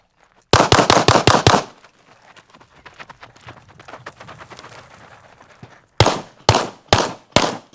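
Six rapid gunshots ring out at a shooting session, five fired in a fast burst, then a quieter pause with faint movement, and another quick string of loud, close shots at the end.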